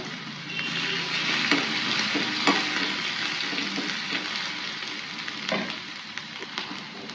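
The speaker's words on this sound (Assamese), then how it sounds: "আদা নহৰুখিনি অকণমান লৰাই" Ginger and garlic sizzle in a hot pan as a spoon stirs them, steady frying hiss broken by scraping strokes and clinks against the pan, close and fairly loud.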